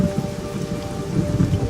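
Rain falls in the desert with thunder, making a dense, loud, continuous patter and hiss over a low rolling rumble that holds steady throughout.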